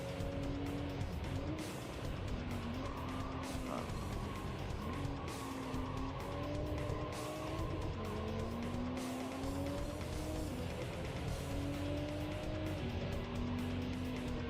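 Peugeot race car in a racing video game: a constant engine drone with pitch rising and falling through gear changes, overlaid by long wavering tire squeals, loud and steady throughout with no voices.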